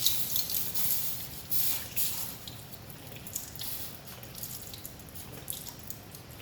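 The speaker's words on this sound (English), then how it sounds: "So put them in the water, cool them both down." A heated metal sphere and ring lowered into water to cool, giving soft dripping and watery splashing sounds, quiet and close, with small plops and trickles throughout.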